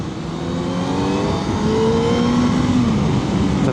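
A Honda CBR 600F sport motorcycle with its stock original exhaust revving steadily, engine note climbing and holding at a loud, close, continuous drone with no talking.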